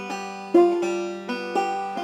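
A banjo plays a basic alternating thumb roll with a lilting swing rhythm in a 12-bar blues lesson, bright plucked notes over a steady droning string, played alone.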